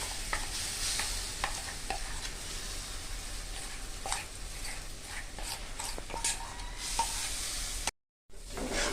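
Hot oil frying in a wok with salt added, a steady close sizzle broken by scattered clicks and stirring scrapes, cut by a brief silence near the end.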